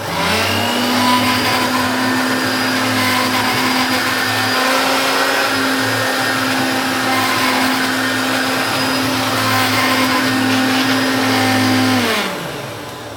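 Hoover Turbopower upright vacuum cleaner running in normal mode, a loud, steady motor drone with a constant hum and hiss that holds for about twelve seconds, then begins to wind down.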